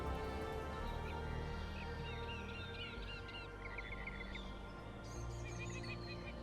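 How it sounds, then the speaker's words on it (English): A northern mockingbird sings in rapid varied phrases and chirps, faint and distant over a low steady background hum, with repeated bursts of complex song throughout. "the northern mockingbird fills the air with a torrent of song and mimicry, marking territory with its complex calls"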